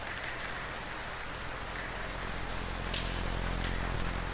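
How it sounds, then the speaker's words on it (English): Steady rain sound effect from a Unity game example project, a continuous broadband hiss of falling drops that stays fairly quiet and even throughout, with a few faint brighter splashes and no voices. "As you can hear, we have a rain sound effect"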